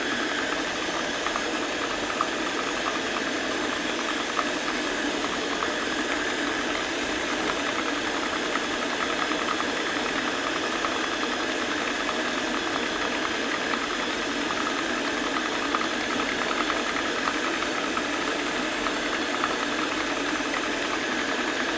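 Stand mixer beating chiffon or butter cake batter in its bowl, a steady mechanical whir and rattle running evenly and fairly loud throughout with no pauses or talk.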